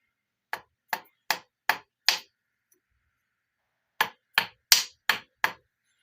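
Sharp hammer taps on a part being fitted into a motorbike (a Bigdog 585 build), five quick strikes, a pause, then five more, close and crisp with no talk.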